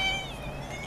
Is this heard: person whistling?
no